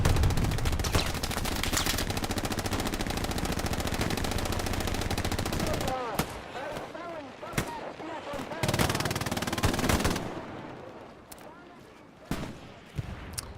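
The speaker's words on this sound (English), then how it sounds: "Shots from Major Prolapse right here." Rapid machine-gun bursts and scattered gunshots in the World War II game Hell Let Loose during a D-Day event, a long loud stream at first, then sharper separate shots at varied distances, with a voice commentating over the firing.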